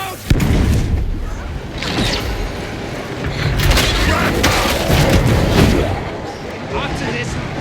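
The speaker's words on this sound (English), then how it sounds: "Look out! It's going to explode!" Explosion in Warhammer 40,000: Darktide, a sudden loud blast followed by sustained rumbling, crashing combat noise and creaks, with voices shouting over it.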